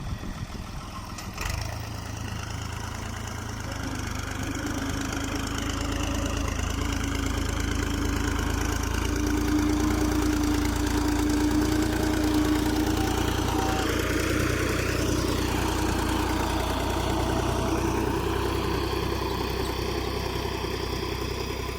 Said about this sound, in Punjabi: 88 ਮਾਡਲ ਟਰੈਕਟਰ ਦੀ ਪਰਫਾਰਮੈਂਸ ਦੇਖੋ